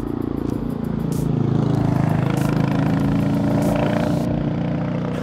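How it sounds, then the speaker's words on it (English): A Royal Enfield motorcycle running on its stock exhaust, giving a steady, loud, close engine drone with a dense, rumbling thump that holds continuously throughout, with no talking. "The stock exhaust sounds wonderful."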